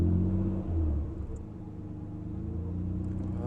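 A Nissan Skyline GTR R34 Nismo engine pulls away gently from a standstill, a close, steady low rumble with a brief dip and then a gradual rise in revs.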